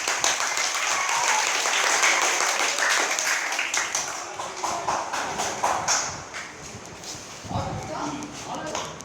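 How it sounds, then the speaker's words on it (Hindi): Children at an orphanage in Delhi clap together during a motivational session, giving a patter of applause that rises and fades, with voices talking over it. "तालियां"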